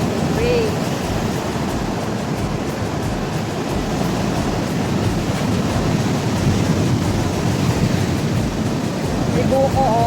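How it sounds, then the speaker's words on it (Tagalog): Strong typhoon surf pounds the beach at Punta Fuego, a loud continuous roar of crashing waves mixed with gusting wind buffeting the microphone, steady throughout with no break. "Super lakas ng wave."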